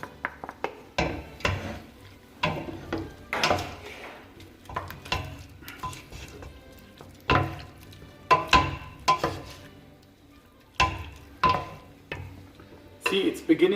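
Paprika powder is stirred into meat frying in a pot for Hungarian goulash (pörkölt), with repeated scraping and clanking of a utensil against the pan in an irregular rhythm over a soft sizzle.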